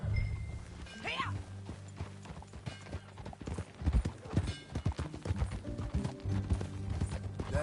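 Horse hooves clip-clop at a steady walking rhythm in the Red Dead Redemption 2 western game, with a brief whinny and faint tack jingles, mixed with low background game ambience.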